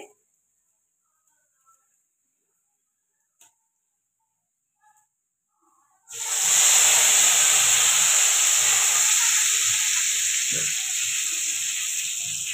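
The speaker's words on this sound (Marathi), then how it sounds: "थोडीशी फोडणीमध्ये मी कोथिंबीर टाकते." Quiet for several seconds, then a loud, sudden sizzle of coriander leaves hitting hot tempering oil, a bright steady hiss that persists and slowly eases.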